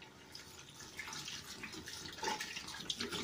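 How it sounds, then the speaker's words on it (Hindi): Water poured from a bottle into a cooking pot for mutton paaye, a quiet continuous splashing and gurgling stream with small surges, heard alone. "चले अब मैं डालने लगी हूँ पानी"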